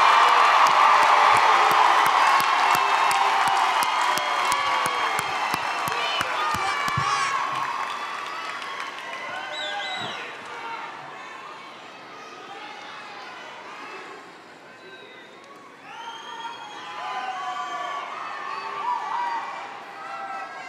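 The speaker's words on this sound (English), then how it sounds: "Will the friends and other relatives of our candidates please stand and receive our applause?" Large commencement crowd at a Lamar University College of Arts and Sciences graduation applauding and cheering loudly, dense clapping with whoops and shouts that start strong and taper to scattered clapping and crowd murmur.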